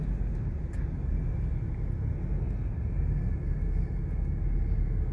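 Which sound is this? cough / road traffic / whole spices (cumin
road traffic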